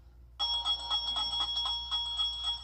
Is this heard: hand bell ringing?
yes